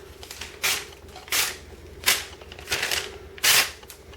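A Ganzo F759M folding knife slices through receipt paper in five crisp, rasping cuts spaced about evenly, close and fairly loud, with no talking.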